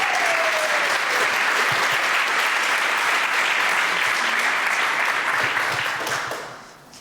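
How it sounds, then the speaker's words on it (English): Loud, dense audience applause at the European final of the Game Jam Plus game development competition in Funchal, Madeira, sustained for several seconds and then fading out. "A huge applause to all of you."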